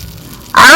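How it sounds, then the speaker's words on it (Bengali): Dhoka, Bengali lentil cakes, frying in hot oil: near silence, then an abrupt loud hiss and sizzle bursting in as a cake meets the oil, continuing strongly to the end. "সমস্ত ধোকা এইভাবে আমি মিডিয়াম আছে ভালো করে ভেজে নিলাম"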